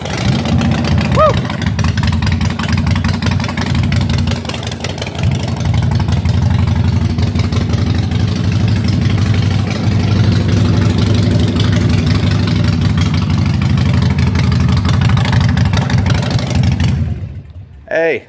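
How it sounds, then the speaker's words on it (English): A Harley-Davidson Iron 883 motorcycle runs inside a dealership shop, its loud, steady V-twin rumble filling the space almost continuously before cutting off abruptly near the end. "Go ahead and fire up here inside the shop."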